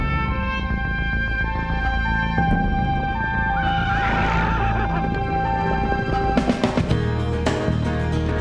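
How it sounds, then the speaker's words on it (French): A stallion lets out a loud, drawn-out neigh close by, the whinny rising and wavering over several seconds amid faint stable noise. "Et il y a un étalon."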